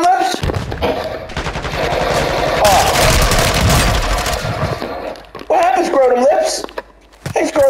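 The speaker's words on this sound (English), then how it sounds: "You wanna shoot me, Scrotum?" Bursts of automatic gunfire from Call of Duty Warzone rattle loudly in fast rapid strings, mixed with a voice talking over the action.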